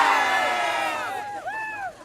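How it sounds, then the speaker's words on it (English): A group of football fans from different teams cheer and whoop together at a live outdoor TV broadcast in Pittsburgh, loud at first and gradually thinning into scattered shouts. "you can hear these guys because they're not shy about cheering"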